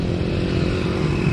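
Motorbikes, mostly small toy-like bikes, passing in heavy street traffic: a continuous close engine drone with buzzing rumble throughout, loud and unbroken, no speech.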